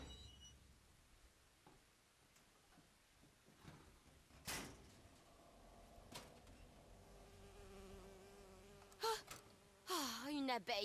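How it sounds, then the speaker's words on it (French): A bee buzzes in the video game BioShock Infinite, a faint, wavering drone that rises and falls under quiet game ambience, broken by a few sharp knocks and a sudden louder rush near the end. "Oh, une abeille. J'ai horreur de ça."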